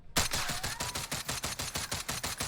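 DMR 14 rifle gunfire in a video game, a steady rapid burst of loud, evenly spaced shots running throughout with no pauses.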